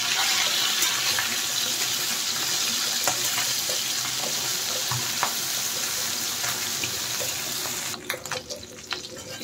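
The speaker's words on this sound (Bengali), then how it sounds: "এখন মাছগুলো পাল্টে দেব। মাছের এক সাইড ভাজা হয়ে গেছে" Flipped tengra fish frying in mustard oil give a steady, close broadband hiss with faint crackles throughout, breaking into a few sharp clatters near the end.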